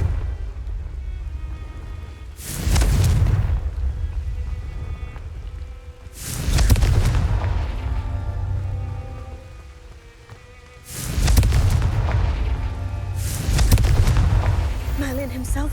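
Spell explosions from the Confringo curse in Hogwarts Legacy, four loud booming blasts at steady intervals, each with a broad crackling burst and low rumble over a continuous game ambience.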